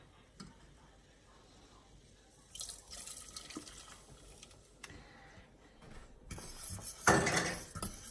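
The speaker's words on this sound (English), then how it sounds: "we are going to add a 1/2 a cup of Coke to this mixture as well" Half a cup of Coke poured into a cake mixture in a home kitchen, a faint, close trickle and splash with light dish and utensil clatter, growing louder toward the end.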